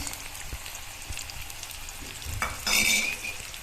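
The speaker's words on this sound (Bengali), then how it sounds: "প্রথমে আমরা নিয়ে নিচ্ছি পেঁয়াজটা আমরা ঢেলে দিই।" Onions poured into hot oil in a pan for matar paneer, a light crackle and stirring that swells into a louder hiss of sizzling near the end.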